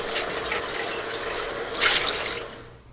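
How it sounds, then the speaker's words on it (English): Tap water runs and splashes over rice being rinsed in a sink, a steady close wash with a brief louder gush before it tapers off. "I've read in a few recipes that you should always wash the rice"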